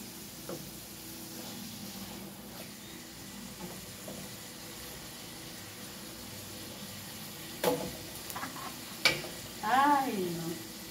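Onions frying with liver in a pan make a soft, steady sizzle with stirring scrapes, followed by a few sharp utensil clinks near the end.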